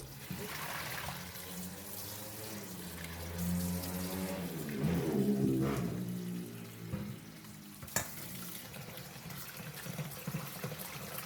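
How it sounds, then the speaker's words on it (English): Water sloshes and swirls as mung beans are stirred and rinsed, a continuous wet churning that swells midway, with a sharp knock near the end. "Rinse them a couple more times until the water is clear again."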